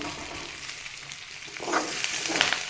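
Curry leaves stir and fry in oil for a curry leaf thokku, a soft sizzle that swells with louder stirring scrapes in the second half, with no voices.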